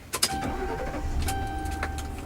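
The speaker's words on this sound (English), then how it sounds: "As you can hear, engine is very quiet upon startup." A 2011 Ford Crown Victoria engine cranks briefly with a couple of clicks, then settles into a quiet, low hum; faint interior clicks and tones follow.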